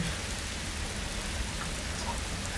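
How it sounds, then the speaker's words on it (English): Heavy rain pours down steadily in the UK, a dense, unbroken hiss of drops hitting surfaces at moderate volume, with no voices. "Absolutely pouring."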